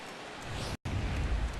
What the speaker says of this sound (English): when it comes to pitching in the rain, what changes?